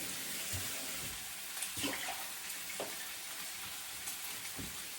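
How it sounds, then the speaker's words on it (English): Water running and splashing as a bowl is rinsed and scrubbed in a kitchen sink, a quiet steady wash with a few soft knocks and clinks. "I'm going to clean my bowl quickly"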